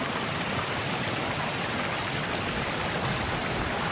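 Water rushes steadily along a stream near a campground, a dense, continuous broadband wash with no other sounds and no pauses.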